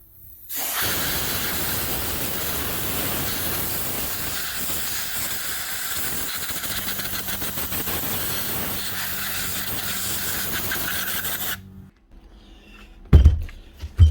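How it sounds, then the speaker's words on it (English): A compressor airline blows a steady, loud hiss of compressed air over a corroded mixing drill being cleaned, running for about eleven seconds before cutting off, followed by a couple of faint knocks. "Quick wee light brush and then back the compressor."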